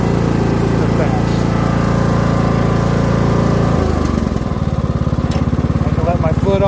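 A Cub Cadet XT1 LT42 riding lawn mower engine runs with a loud, steady buzzing drone close by. Partway through, its pitch drops and settles into a rougher, lower throb.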